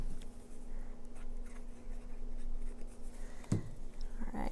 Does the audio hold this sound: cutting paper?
yes